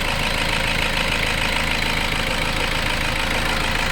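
Toyota Innova engine idling steadily while warming up, a continuous broadband hum with a low rumble, close and constant with no talk.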